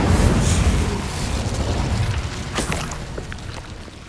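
An Incendio fire spell is cast in Hogwarts Legacy, giving a booming burst that fades into a rushing, crackling roar of flame, with scattered sharp snaps over about four seconds and no speech.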